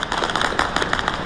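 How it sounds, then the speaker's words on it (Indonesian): Weapons at a US base in Iraq fire a rapid, dense rattle at an incoming Iranian drone, and the cracking bursts keep up loud and steady throughout. "Rentetan senjata mencoba mencegat serangan drone Iran yang menyasar pangkalan Amerika Serikat di Irak, namun gagal hingga menyebabkan ledakan besar."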